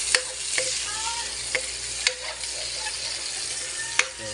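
Onions frying in hot oil in a pan and being stirred, a steady close sizzle broken by sharp scraping clicks of the spoon against the pan at irregular intervals.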